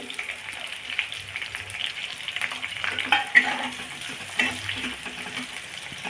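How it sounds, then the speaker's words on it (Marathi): Onion frying with garlic in a pan as an egg and fenugreek chutney is cooked, a steady soft sizzle with scraping stir noises throughout, fairly close and alone. "लसूण टाकून द्यायचं आहे हा हलकाचा फ्राय झाला की मग आपण यात कांदा टाकूया त्यात मी कांदा टाकून घेते"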